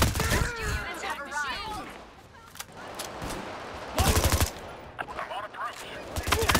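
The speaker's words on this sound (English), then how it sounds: "Guys are shooting." Enemy gunfire in Payday 3, sharp bursts of rapid shots cutting through a busy firefight, mixed with other game sounds and players talking.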